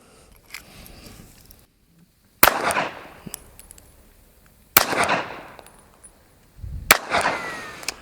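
Three loud, sharp gunshots from a Glock 17 Gen 6 pistol fired at a target about 7 yards away on a range, spaced a couple of seconds apart, each followed by a brief ringing decay.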